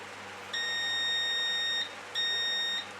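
A multimeter emits two steady high-pitched continuity beeps during a test on power leads, the first lasting over a second and the second shorter, clear and close over a faint hum.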